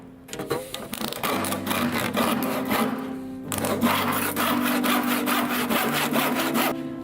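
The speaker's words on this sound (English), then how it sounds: "And I'm going to turn it over and cut it off here." A hand saw cutting through a wooden piece, its rhythmic back-and-forth strokes loud and close, in two bursts separated by a short pause.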